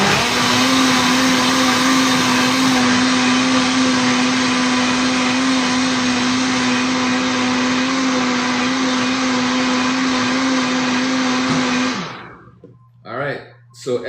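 A high-speed blender whirs loudly and steadily while blending a vegan egg mixture, a constant motor roar that cuts off abruptly near the end, followed by brief soft sounds.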